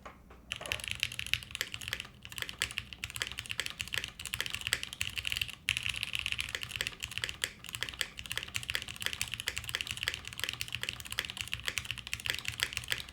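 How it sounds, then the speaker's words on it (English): Steady, fast typing on a Tofu60 mechanical keyboard with a brass plate, with crisp clacky keystrokes and a bright, slightly metallic, high-pitched ring on bottom-out, close up with no talking. "There's something high-pitched about the bottom-out sound. That's the brass."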